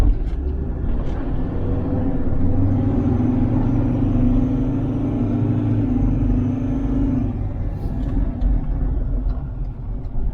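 A Ford Ranger with a P040D fault code being driven on the road, heard as a steady low engine and tyre rumble from inside the cab that holds a constant level throughout with no talking.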